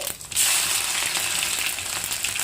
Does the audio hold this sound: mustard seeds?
yes